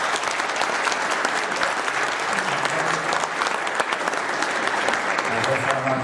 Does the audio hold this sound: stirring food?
no